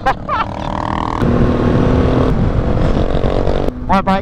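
A Suzuki DRZ motorcycle fitted with an aftermarket exhaust pipe revs with a loud, buzzing engine note, while voices are heard briefly at the start and end.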